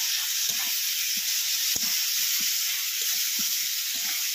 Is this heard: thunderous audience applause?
no